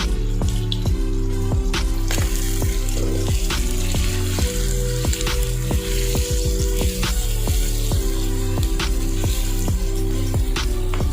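Chicken frying in spiced oil for a shahi chicken korma, a loud close crackle of popping and spattering with frequent sharp sputters throughout, no talking.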